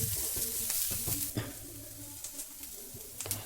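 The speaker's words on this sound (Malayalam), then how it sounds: "സവാള ചെറുതായിട്ടൊന്ന് വഴണ്ട് വരുന്നത് വരെ ഒന്ന് മിക്സ് ചെയ്ത് കൊടുക്കുക." Onion sautés with ginger, garlic, green chilli and curry leaves in a pan, making a close, crackling sizzle with repeated sharp scrapes and taps of a spoon as it is mixed.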